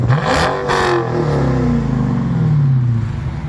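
Dodge Challenger SRT 392 V8 with a six-speed manual revs close by, a loud rising and falling engine sweep that holds a deep growl for several seconds, with no talk.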